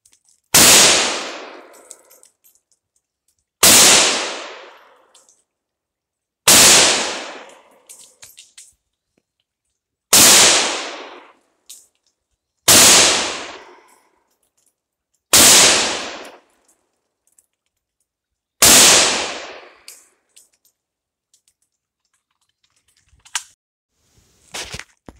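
A Norinco SKS rifle is fired at targets such as a rock against a wall and a bottle: seven loud, sharp reports at irregular intervals, each followed by a long echoing decay, with no talking.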